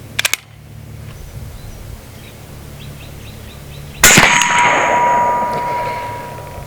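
A single sharp crack from an AEA Challenger Pro .30 caliber PCP air rifle fired at a 100-yard range, loud and close, followed by a ringing, slowly fading tail after a few small clicks at the start.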